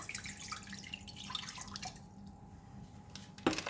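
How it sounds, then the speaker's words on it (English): Plain water trickles and splashes into a pot, a soft continuous pouring with small drips, followed by a brief clunk near the end. "In the pot, I'm going to put in all the water, the plain water."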